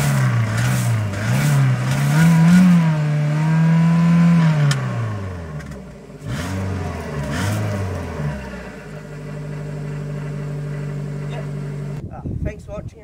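An aunt's car with its exhaust pipe filled with water, the engine revved hard several times, pitch climbing and falling in loud surges before settling to a steady high idle, close up.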